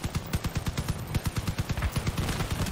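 Rapid automatic fire from a Blue Vector machine gun on a vehicle build in Crossout, in a steady rhythmic stream of close, punchy shots that runs without a break.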